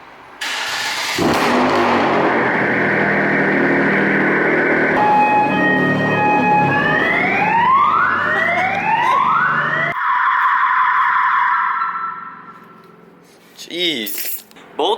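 Loud cars roar and rev nearby, their engines climbing in rising sweeps of pitch before cutting off. A few short knocks and noises follow near the end.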